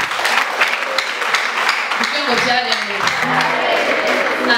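Steady applause from a crowd fills the whole stretch, dense and continuous, with a voice briefly rising through the middle.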